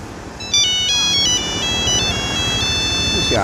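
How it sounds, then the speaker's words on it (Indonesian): A mobile phone ringtone plays a loud, repeating electronic melody of bright beeping tones, close by, during a power outage at home. "Oh, si Anto telepon nih"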